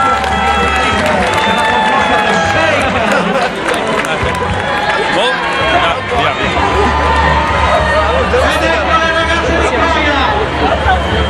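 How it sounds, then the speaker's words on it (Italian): A loud, dense crowd at the Palio Pignarulars race cheers, chatters and applauds the runners, with an announcer talking over the constant roar throughout. "L'applauso a Coia, eccole qua"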